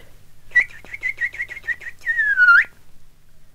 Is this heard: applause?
no